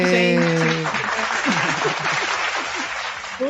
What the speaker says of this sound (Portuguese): Adorei os aplausos.